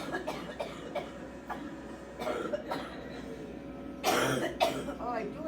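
Two sharp coughs close by, one quickly after the other, over a faint, steady background hum.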